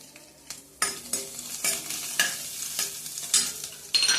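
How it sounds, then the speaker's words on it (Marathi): Green chilies and a few peppercorns frying in hot oil with ginger paste, a spoon stirring and scraping the pan in repeated sharp strokes over a steady close sizzle, with no talk. "थोड्या मिरच्या घेतलेल्या आहे त्या मिरच्या टाकू छान ते आपण परतून घेऊया दोन चार मिरे घेतले"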